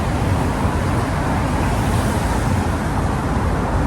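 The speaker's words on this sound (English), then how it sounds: "There's cars coming." Cars roar past inside a damp, dripping road tunnel in Gibraltar, a dense, loud, continuous rushing wash of engine and tyre noise echoing off the walls without a break.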